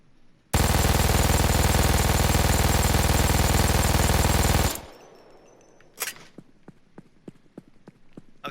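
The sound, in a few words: MG-42 machine gun firing at long range, Payday 2 video game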